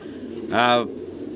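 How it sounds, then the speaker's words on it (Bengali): A Danish pigeon gives a single short, low coo, close by, against a quiet background. "জোড়া ড্যানিশ কবুতর আপনারা দেখতে পারতেছেন এখানে"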